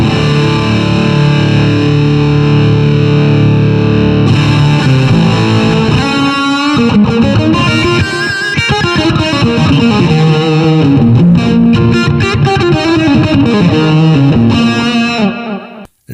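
Electric guitar through a Boss DS-1 distortion pedal into the USA amp model of a Blackstar Amped 2, with held distorted chords giving way to busier riffs and single-note lines, loud and steady, stopping suddenly at the end.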